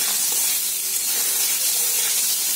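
Potatoes and eggplant frying in a little oil with turmeric, salt, radhuni seeds and slit green chillies give a steady, close, broadband sizzle and hiss that holds evenly throughout, with no voices.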